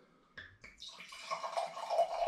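Home-brewed cloudy, sparkling fruit-pastille hard cider pours from a bottle into a glass, starting with a couple of small glugs and growing into a steady fizzing, gurgling stream, close up and clear.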